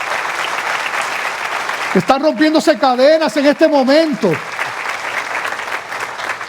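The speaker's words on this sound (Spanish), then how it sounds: "Dale ese aplauso fuerte al Señor" Church congregation applauding steadily throughout, a broadband clapping wash that carries on under a voice speaking emphatically in Spanish in the middle stretch.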